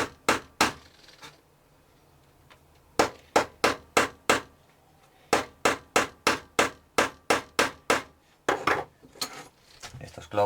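Thin nails hammered into a wooden seed-cleaning sieve frame: sharp, loud metallic blows in quick rhythmic runs of several strikes, separated by short pauses, close up with no talking.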